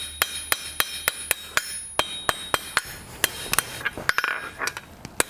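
Steady hammer blows ring out on the edge of an anvil as a blacksmith chamfers the edge of a toaster part for an 18th–19th century style piece. The strikes are sharp, metallic and close, with a short cluster of quicker hits.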